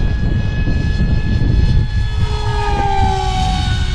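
A small RC pusher jet, an Astro Z 800mm electric model on a 4S battery, at full throttle in windy conditions: a loud, steady high-pitched whine with shifting tones as it passes, with wind rumble underneath.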